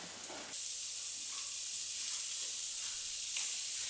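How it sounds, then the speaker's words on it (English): A burger and onions fry in a pan with a steady, hissing sizzle that stays even and close throughout, after a brief quieter moment at the start. "I can really smell them onions cooking, the burger, it smells amazing."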